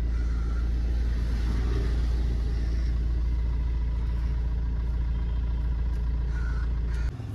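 A Suzuki Swift engine idles steadily with a low, continuous rumble that holds even for about seven seconds, then cuts off abruptly right at the end.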